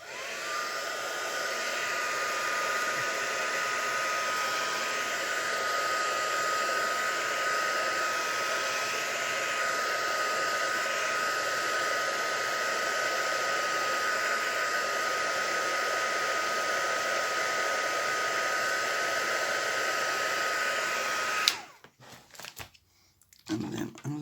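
A hair dryer blowing steadily on white paint splatters on a craft page, a loud continuous whir for about twenty seconds before it cuts off, followed by faint handling noises.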